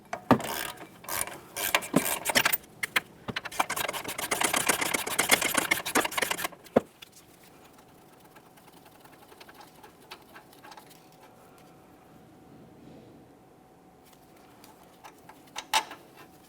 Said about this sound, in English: we'll be using a 17mm to remove each of these bolts